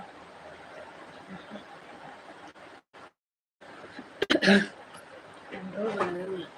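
A person coughs once, a dry, sharp burst close by, with quiet speech before it and a voice continuing afterward.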